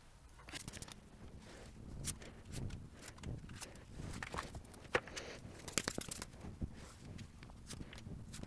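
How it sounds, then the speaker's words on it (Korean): Tarot cards are drawn and shuffled up close: soft, scattered rustles, crinkles and sharp little snaps of card stock, quiet and irregular. "자, 그러면 여러분을 좋아하는 이 사람 대해서 카드를 뽑아보도록 하겠습니다."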